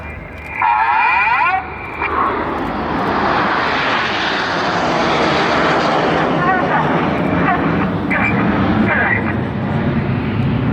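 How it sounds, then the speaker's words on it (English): Red Arrows display team jets fly in formation at the Sunderland International Airshow, a loud, sustained jet engine roar that swells early and holds steady, with commentary heard over it. "the following pilots have to use a lot of rudder to swing the jets out like a pendulum in line astern"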